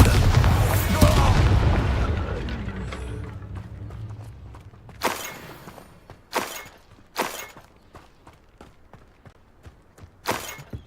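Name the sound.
Expulso blasting spell explosion in video game Hogwarts Legacy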